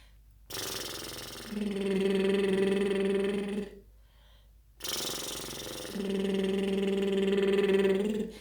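Two sustained voiced lip trills, each a buzzy fluttering hum lasting a few seconds, separated by a brief pause; close and fairly soft.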